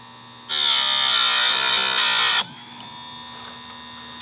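An electric sharpener grinds the teeth of a chainsaw chain in a loud, steady whine of about two seconds, then cuts off, leaving a quiet motor hum with faint ticks.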